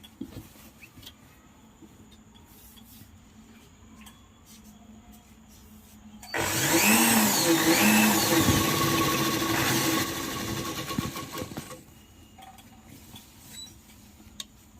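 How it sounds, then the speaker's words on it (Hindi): An electric sewing machine runs in one steady burst of roughly five seconds, stitching along the edge of a petticoat, clearly louder than the quiet room around it, with light handling noise before and after. "इसको किनारे करते हुए सिलाई करना है।"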